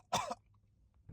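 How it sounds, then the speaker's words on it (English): A man gives a single deep, rough cough, short and close, followed by near silence and a faint start of another sound at the end. "He peels the man's torn puffer jacket off as the man coughs a deep cough."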